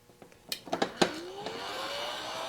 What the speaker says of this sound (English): hold on, I think I need the heat gun